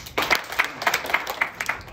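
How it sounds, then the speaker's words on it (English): A middle-school audience claps for a sixth-grade student at a school event: a short burst of applause with evenly spaced, sharp clap pulses, fairly close and moderately loud, with no talking. "Can you please give him a round of applause?"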